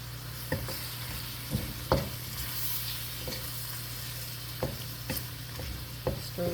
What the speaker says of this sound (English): Stir that up nice.